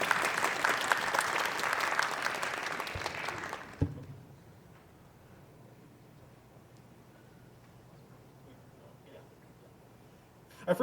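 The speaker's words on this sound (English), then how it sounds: "Let's give them a round of applause for helping us out today." Applause from the audience at a convention panel, a dense burst of clapping that stops abruptly after about four seconds, leaving quiet room tone.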